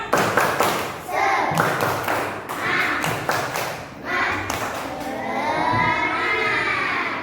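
A group claps in a rhythmic pattern of sharp claps and thumps, pausing between rounds, with children's voices shouting along.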